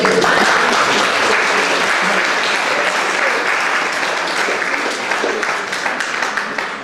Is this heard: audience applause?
yes